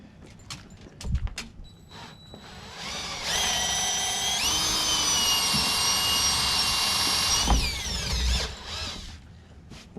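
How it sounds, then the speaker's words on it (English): A power drill fitted with a plug cutter bores into old teak decking, spinning up to a loud, steady high whine for several seconds before winding down, with a few clicks and knocks around it. "I got a plug maker and some of our old teak deck that we ripped off of this deck"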